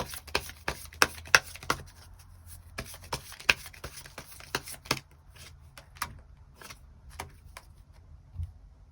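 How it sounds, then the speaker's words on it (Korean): Tarot cards being shuffled and drawn, a run of crisp close-up card snaps, flicks and slides, irregular and quick, alone without talk. "그럼 8번 분들 추가 카드로 이번 10월을 더욱더 잘 보내기 위한 조언의 카드 무엇이 있을지 추가 카드 뽑아보도록 하겠습니다"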